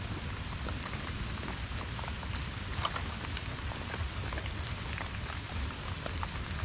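Heavy rain pours steadily outdoors during a snake-trapping trip in Vietnam, a dense, constant hiss with scattered sharper drops pattering on nearby surfaces.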